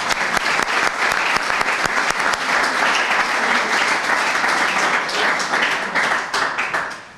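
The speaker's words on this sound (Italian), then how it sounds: "facciamo anche un applauso" Audience applause at an Italian volleyball coaches' presentation, dense sustained clapping from a sizeable crowd that fills the room evenly for several seconds before tapering off at the end.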